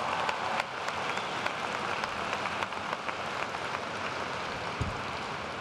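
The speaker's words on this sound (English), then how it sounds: "Please give your parents, family, and friends a round of applause for their support over the last several years." Graduates at a University of Northern Iowa spring commencement give a round of applause to their parents, families and friends, dense sustained clapping from a large crowd in a big hall, steady and fairly distant.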